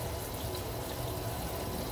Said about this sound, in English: I'm guilty of leaving the water running.